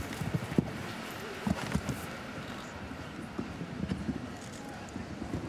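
Horse hooves on an indoor show jumping course at the Oslo CSI5* World Cup event in 2013, a series of dull, irregular thuds from a horse cantering between fences, with commentary over them.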